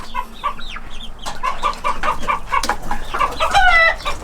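A one-year-old young rooster in a village clucks repeatedly at close range, with short throaty calls building into a louder, more insistent squawk toward the end.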